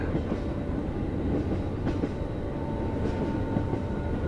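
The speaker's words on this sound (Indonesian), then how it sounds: "kereta berhenti untuk melakukan langsir" A train rumbles steadily along the rails near Jalan Melati, Jombang, Indonesia, a continuous low roar with faint rhythmic clatter, close and loud throughout, as it slows to stop for shunting.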